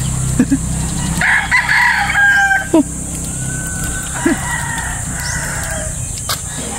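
Breeder gamefowl roosters crowing on a farm, several drawn-out calls overlapping from nearby and farther off over a constant background hum, with a few short clucks between.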